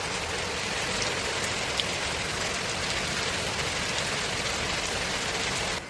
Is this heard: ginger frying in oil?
no